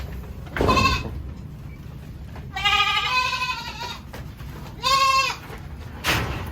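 Goats on a farm, among them one being treated for polio and tetanus, let out three loud, close bleats spaced a couple of seconds apart, each a quavering nasal call, with brief bumps and a low hum between them.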